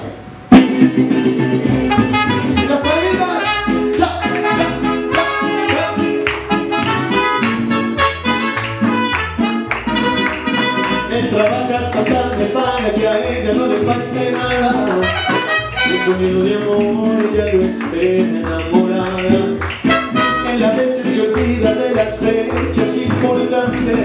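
A mariachi band plays a lively song at a birthday celebration with dense strummed strings, bright horns and a steady bass pulse, loud and continuous throughout.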